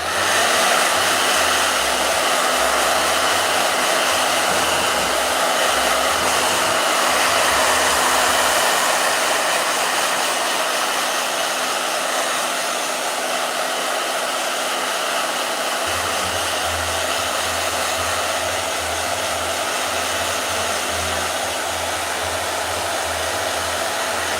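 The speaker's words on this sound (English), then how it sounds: "Blow dryer." A blow dryer roars steadily for the whole stretch, a loud broadband whoosh with a low rumble that shifts partway through; no voices.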